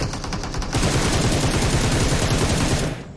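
Rapid automatic gunfire in the mobile battle-royale game PUBG Mobile, loud dense bursts of shots in quick rhythm filling the whole moment before cutting off abruptly at the end.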